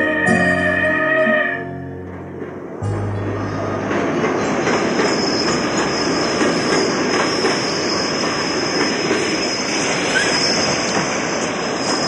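A train pulls into a platform, a low rumbling roll with rhythmic clickety-clack of wheels, a steady high whine and squeal over it, loud and close, after a brief tonal opening.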